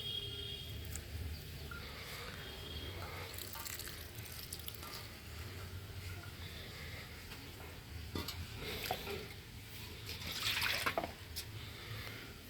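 Water is poured onto potted plants on a rooftop, with soft splashing, trickling and dripping that swells near the end. Light handling noises run throughout.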